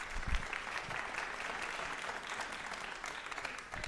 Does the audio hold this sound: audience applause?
yes